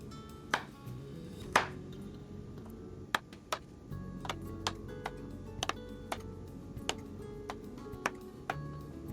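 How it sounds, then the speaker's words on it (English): A knife chops carrots unevenly on a cutting board, giving sharp, irregular taps at close range over a quiet background, with no talking. "We slice our carrots unevenly like this."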